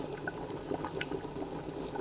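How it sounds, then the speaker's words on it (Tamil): Boiling hot water pours into a pot of wedding-style biryani, a faint steady liquid bubbling and trickling with soft spatters and no talk. "நான் கொஞ்சம் எப்பொழுதுமே கொஞ்சம் தண்ணி கொதிக்க வச்சு தான் நான் ஊற்றுவேன்."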